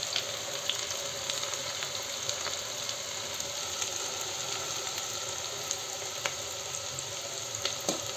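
Onion hits a hot pan of Mumbai street-style pav bhaji, giving a dense, continuous sizzle with scattered crackles and pops, close and steady throughout.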